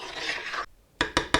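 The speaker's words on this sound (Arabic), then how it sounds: "هقلب كده الرز بالسمنه والقشطه" Spoon stirring rice with butter ghee and cream in a pot, a scraping, rubbing stir up close, then a pause followed by three sharp, brief clinks of the spoon against the pot.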